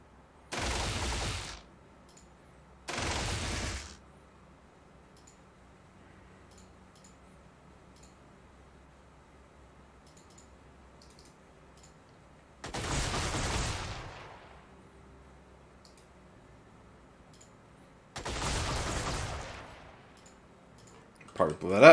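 Bursts of rapid gunfire in the X Division video game, four separate loud volleys with quiet gaps between them, a voice talking in the background.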